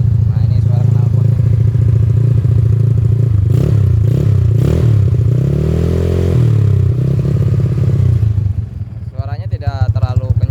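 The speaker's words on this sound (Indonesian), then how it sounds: "Nah ini suara knalpot." A Yamaha Mio Smile motorcycle with a non-standard engine idles with a steady, low exhaust putter and a few throttle blips. Someone talks over it near the end.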